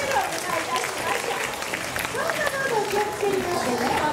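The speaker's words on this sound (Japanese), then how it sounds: "皆様拍手をお願いいたします。" An audience claps at a Universal Studios Japan special fan night event, with steady crowd applause throughout, while a voice talks over it.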